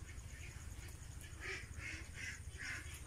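A duck quacks outdoors in a few repeated nasal calls over a low steady background hum, moderately faint and without speech.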